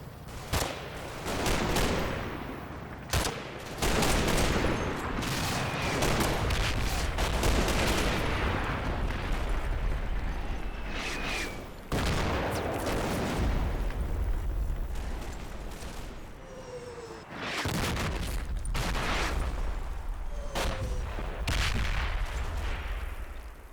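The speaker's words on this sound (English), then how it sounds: "My light barrage continues as I try to pin the" Combat Mission World War II game battle at the Odon bridges, Operation Epsom: a dense, continuous artillery barrage mixed with rattling gunfire and repeated heavy blasts, loud and unbroken throughout.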